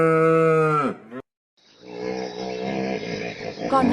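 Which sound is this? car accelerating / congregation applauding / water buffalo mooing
water buffalo mooing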